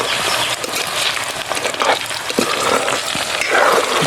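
Potato chips frying in hot oil in a home kitchen give a dense, steady crackling sizzle, loud and continuous with small bursts of popping throughout.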